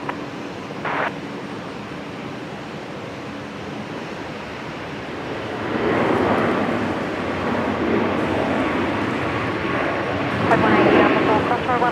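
A jet airliner taking off at Brisbane Airport, its broad engine roar heard at a distance and building gradually to a louder rumble, steady and airy, with a brief faint radio voice early on.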